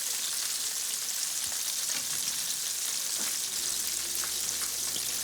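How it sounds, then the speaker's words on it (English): Chicken pieces fry in hot oil in a steady, loud, dense sizzle with small crackles and pops throughout, and no one speaks. "all of them will fry with the same crisp"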